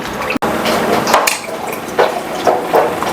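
Water poured repeatedly over cooked, pressure-cooked food being squeezed out in a home kitchen, heard as close splashing and trickling bursts mixed with light clinks of a vessel, with a sharp click near the start.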